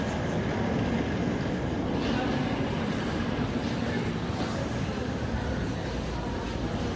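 Ambience inside a Polish railway station that resembles a small mall with food shops, a steady loud rumble of a train and hall noise running continuously with no clear voices.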